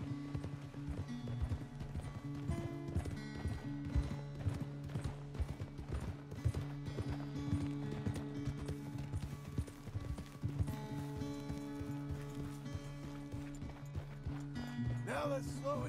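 Horse hooves clip-clop in Red Dead Redemption 2, a steady trotting rhythm that persists throughout, with in-game music and a voice talking over it.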